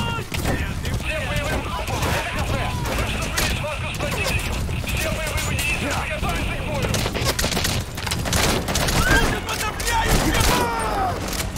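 Gunfire and explosive bursts in Metal Gear Solid V: The Phantom Pain, with the player riding through enemies; dense, continuous clatter of shots under game noise and effects for the whole stretch, loud and busy throughout.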